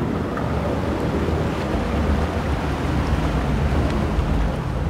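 Water rushes and churns as the level rises in the video game Little Nightmares, a steady dense roar filling the clip without a break and with no voices.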